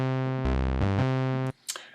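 Initialized patch of the Thor synthesizer in Reason, a buzzy, harmonically rich sustained tone that steps through a few pitches for about a second and a half, then cuts off and leaves a short noisy tail.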